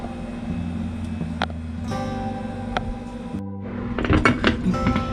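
A pan of Jamaican Easter spice bun is set into the oven with scattered metallic clanks and clinks of bakeware and rack, under a steady hum, growing busier toward the end.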